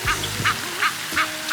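Geese honk outdoors in a steady series of about five evenly spaced calls, fairly close and clear, with no voices.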